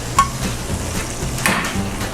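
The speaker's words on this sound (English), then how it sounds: "you do want to kind of see it sizzle and bubble like that" Fried chicken sizzles and bubbles as it is tossed in Nashville hot chicken butter, a steady close frying hiss with soft stirring scrapes and a brief clink near the start.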